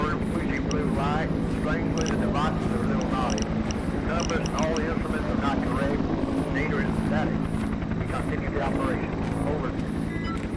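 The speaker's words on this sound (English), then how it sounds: "It looks like a SWAT helicopter." A SWAT helicopter in a video game thrums steadily with a rapid, continuous rotor chop and engine drone throughout, loud and close, while people talk over it.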